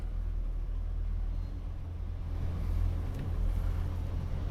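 Small car engine idling steadily just after starting, a low continuous rumble close by and fairly loud, with a faint brief metallic tick partway through; no talking.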